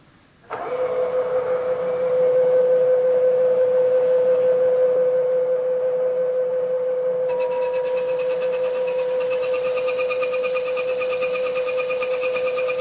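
A milling machine makes a light cutting pass of about twenty thousandths of an inch on a part clamped in a vise. A loud, steady whine starts abruptly, and partway through a brighter, hissing cutting noise joins it and continues to the end.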